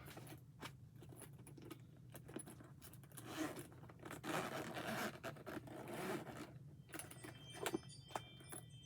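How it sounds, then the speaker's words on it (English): A gold zipper running around the outside of a bag bought from Temu is drawn open in short scratchy pulls, close but quiet, with faint jangling and rustling in between and no talk. "a gold zipper that goes all the way around."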